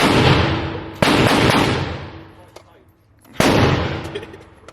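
Two loud AR-10 rifle shots ring out at a shooting range, each a sharp crack followed by a long rolling echo that fades, close by.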